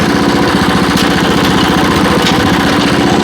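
A WEIMA WM900M-3 walk-behind tractor engine runs on snow, a loud, steady, close mechanical drone with fast rhythmic pulsing that carries through unbroken.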